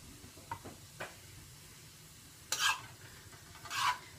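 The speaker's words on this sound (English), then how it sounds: "I'm gonna actually go ahead and put my tomatoes in here now because I can smell the garlic and I don't want it to burn" Tomatoes go into a hot pan with garlic and sizzle softly, with faint stirring scrapes and two louder bursts of frying hiss amid quiet kitchen background.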